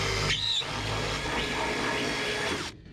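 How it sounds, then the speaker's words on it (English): A power drill runs steadily, making a stop hole at the end of a split in the fender of a 1963 International Loadstar truck. The whine holds at a constant pitch for nearly three seconds, then cuts off abruptly. "Right where that's splitting at the very end, we want to stop drill that."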